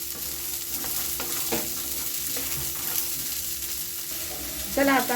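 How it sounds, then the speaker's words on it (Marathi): Green peas roast in about half a spoon of hot oil in a pan, giving a steady sizzle with repeated stirring and scraping scrapes. A voice speaks briefly near the end. "अर्धा चमच एक तेल टाकायचं आणि चांगलं भाजून घ्यायचे वाटाने"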